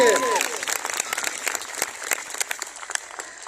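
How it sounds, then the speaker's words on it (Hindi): Dense audience applause at a DXN marketing event in Deoria crackles steadily for a few seconds, starting under a voice, then carries on alone at moderate loudness. "डीएक्शन के लिए जबरदस्त ताली होना चाहिए।"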